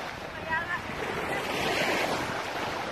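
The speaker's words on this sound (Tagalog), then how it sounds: "Andito kami ngayon sa dagat" Sea waves wash and rush steadily along a shore, a broad surf roar under gusty wind, with faint voices in the background.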